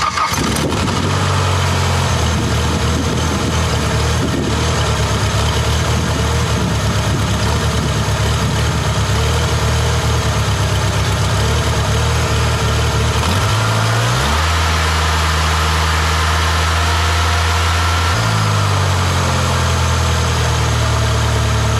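A Ford 2.3L SOHC twin-spark engine with modified coil packs cranks and catches, then idles roughly with a steady low rumble that shifts pitch a couple of times, loud and close.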